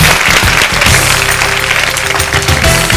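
A television quiz show's studio audience applauds a contestant's win, dense loud clapping sustained for a few seconds.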